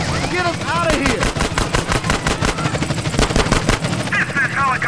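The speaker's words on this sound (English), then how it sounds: "This is helicopter support." Helicopter in GTA San Andreas with steady rotor thumping, mixed with rapid machine-gun bursts and game voices speaking over the action.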